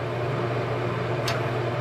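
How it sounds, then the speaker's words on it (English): A bathroom exhaust fan runs steadily with a constant low hum and broadband whoosh, close and unbroken, with a brief faint hiss near the end. "That's why I don't really film too much in the bathroom, because of that fan."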